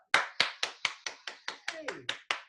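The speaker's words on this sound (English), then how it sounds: "how about a big hearty round of applause for Dan Madera?" Hands clap for Dan Madera at a software capstone presentation, about eleven evenly spaced, crisp claps in a steady rhythm, with a brief voice-like sliding tone partway through.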